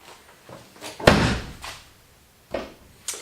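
A car door slams shut once, loud and close, on a jacked-up Ford unibody car with a C4 transmission, among softer knocks and thumps before and after.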